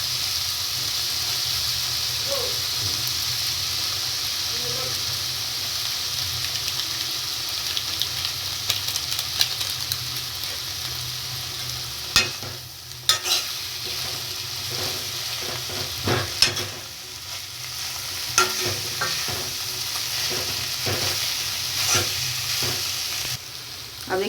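Vegetable Maggi noodles with masala sprinkled on are tossed and mixed with a fork in a hot pan, giving a soft steady sizzle with scattered scraping clicks and taps, louder bursts midway.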